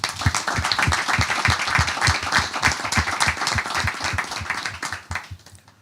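Church congregation claps together in a fast, steady rhythm, many hands striking in unison with a clear repeated beat that keeps going and eases off near the end.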